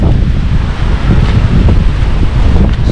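Strong northeast monsoon wind blows at a river mouth by the sea, buffeting the microphone with loud, continuous low rumbling gusts, with surf faintly underneath.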